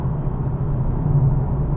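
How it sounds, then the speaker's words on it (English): A 2014 Nissan 370Z GT with a 3.7-litre V6 drones steadily while driving, its low, continuous howl filling the cabin without pause or change in pitch. "it sounds like, almost like a supercharged engine. There's kind of a howl."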